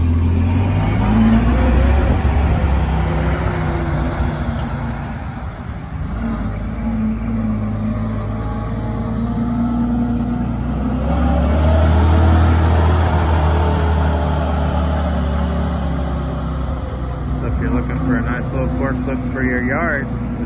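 A Hyster forklift engine idles and runs at a steady low rumble, loud and close throughout, with someone talking over it.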